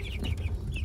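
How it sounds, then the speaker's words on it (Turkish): A light-colored rooster among chicks gives short, clucking calls that are close and moderately loud, with no one talking. "Niye bağırıyorsun? Şu horoz sanırım."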